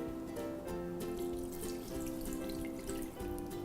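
Chicken broth pours into a soup pot, a steady liquid splashing and trickling with a few gurgling shifts in flow, close and moderately quiet, with no talking.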